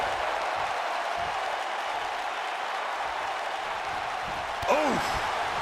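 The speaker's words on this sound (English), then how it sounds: "Listen to this crowd." Wrestling video game crowd during a royal rumble match, a broad steady roar of cheering filling the whole stretch, with a brief louder swell and a commentator-style voice near the end.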